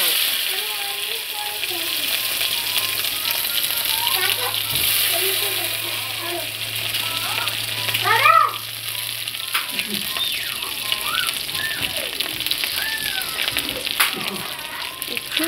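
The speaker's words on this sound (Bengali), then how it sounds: "রসুন ভাজা হয়ে আছে, এবার শাক দেব।" Garlic and black cumin sizzle in hot oil in a pan with a steady, bright crackle and occasional stirring. A voice speaks faintly underneath.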